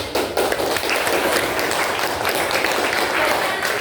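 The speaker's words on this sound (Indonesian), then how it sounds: "Oke, tepuk tangan." A classroom of students claps their hands together, a close, dense burst of clapping that starts abruptly and carries on steadily, with voices faintly mixed in.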